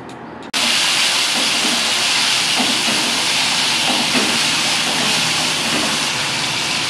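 Gravy for stuffed pointed gourd (potol dorma) cooks in the hot oil left over from frying the gourds, bursting into a loud, steady sizzle that continues unbroken to the end.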